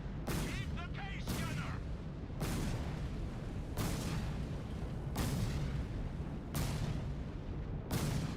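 Artillery fire in the Company of Heroes 3 video game: a regular volley of loud, sharp booming blasts, roughly every one to one and a half seconds, each with a rumbling decay, close and dominant.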